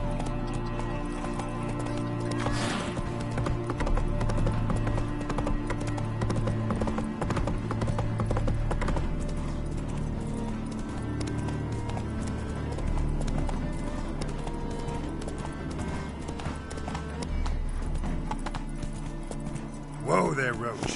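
A horse in the video game The Witcher gallops with steady, rhythmic hoofbeats throughout, close and loud. A neigh or whinny cuts in, and a voice speaks over the hooves.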